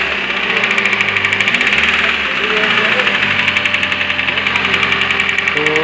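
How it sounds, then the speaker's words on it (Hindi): A car engine with a broken connecting rod, after being driven through water, runs with a steady, rapid metallic knocking over a rough idle. The sound is close and continuous, with no talk over it. "इसमें से इंजन में तो बहुत बुरी आवाज़ आ रही है।"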